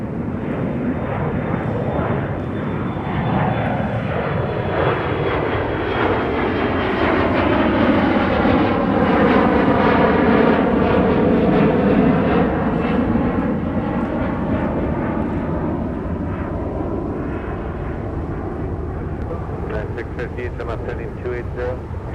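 Jet airliners at Minneapolis–St. Paul airport, a loud roaring engine sweep that swells and fades with a long Doppler drone, buffeted by microphone wind noise.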